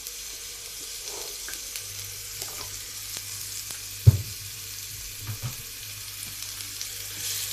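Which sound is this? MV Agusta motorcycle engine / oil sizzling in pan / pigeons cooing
oil sizzling in pan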